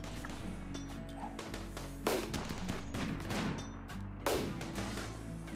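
Gunfire in the RimWorld video game, a rapid run of sharp shots with two louder bursts standing out over a steady game background.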